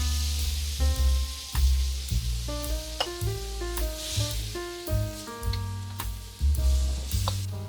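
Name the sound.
water added to hot wok, stir-fry sizzling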